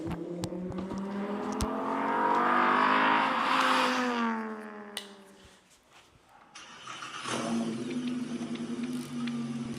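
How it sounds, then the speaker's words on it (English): A Volkswagen engine revs loudly, climbing and falling in pitch, then drops away briefly before roaring back into a sustained, gravelly rev, with no talking. "Let me go to this Volkswagen best sounding engine compilation."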